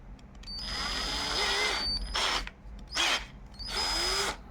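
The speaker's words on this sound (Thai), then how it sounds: "หัวตีเกลียวอันนี้ก็จะใช้ ร่วมกับสว่านมือนะครับ แล้วก็หมุนเข้าไปได้เลยครับ" A hand drill spinning a wire-twisting bit whirs in several bursts, spinning up with a rising whine, pausing briefly between runs, close by with no talking.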